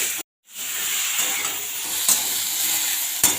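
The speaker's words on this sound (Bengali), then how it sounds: "এরপর দিয়ে দিলাম তেল, দেব 5 ফোড়ন, কুমড়া, দাঁঠি কচু এবং পেঁপে কেটে রেখেছিলাম না" Pumpkin, taro stalk and papaya sizzle and fry steadily in hot oil with five-spice seeds, a close, continuous crackling hiss after a brief silent gap, with a couple of faint clinks of stirring.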